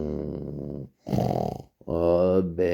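A voice imitates snoring with three drawn-out, rattling, throaty snorts, loud and close, separated by brief pauses.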